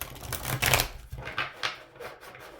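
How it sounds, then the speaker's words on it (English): A deck of tarot cards is shuffled by hand, with several soft riffling and slapping bursts, close and uneven in rhythm. "So let me shuffle a little bit here."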